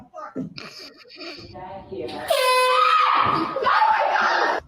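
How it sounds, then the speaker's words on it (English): A loud, blaring air horn blast cuts in after a few seconds of voices and holds steady to the end, drowning out the talk. "Air horn pranks!"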